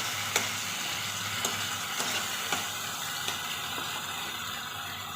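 Spice masala stirred and frying in a pan for a cabbage dish, a steady close sizzle with occasional sharp scrapes of the spoon against the pan at irregular intervals; no one speaks.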